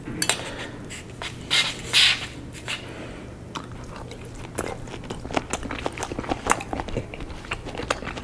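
Close chewing and biting on smoked boneless pork loin roast, with soft crunches and occasional clinks of cutlery and plate, no talking.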